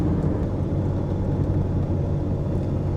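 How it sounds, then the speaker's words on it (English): A steady low engine drone from inside a car, humming and rumbling continuously with no voices, the pitch holding fairly even throughout. "You can really hear the engine revs rising as the car slows down there"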